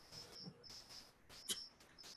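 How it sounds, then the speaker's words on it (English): Thin, high cricket chirps repeat in short intermittent bursts, faint and steady against a quiet, noisy background. "I hear the cricket."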